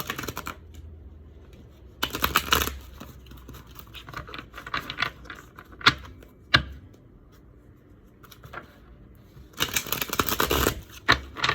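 A thick deck of tarot-style cards is shuffled by hand in several loud bursts of riffling and flapping, separated by quieter shuffling, rustling and tapping, close up with no talk.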